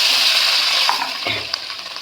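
Water is poured into a pan of frying spice paste for a prawn curry, producing a rushing splash and hiss that settles into quieter bubbling with a few small clinks.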